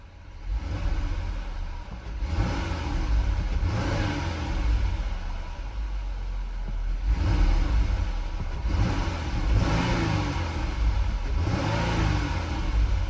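A 2026 Dodge Durango GT engine revved repeatedly while parked, with about five rising, swelling revs to a limiter near 3,500 RPM, each falling back to a steady idle between pulls, close and loud.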